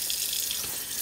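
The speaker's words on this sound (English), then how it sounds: "I put the hot water" Hot water runs steadily from a tap onto a stained uniform jacket, a close, continuous hiss of flowing water with no talking.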